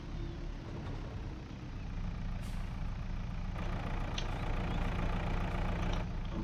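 A JCB telehandler engine idles and runs steadily in the farming game Farming Simulator 22, a continuous low diesel rumble that stays loud throughout with no talk.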